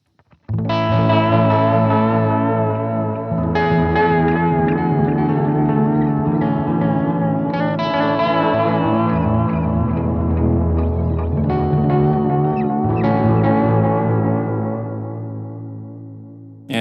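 Electric guitar chords run through a Hologram Microcosm multidelay pedal with added reverb, forming a dense, shimmering wash of repeating echoes that is loud and sustained, with chord changes every few seconds and no talking.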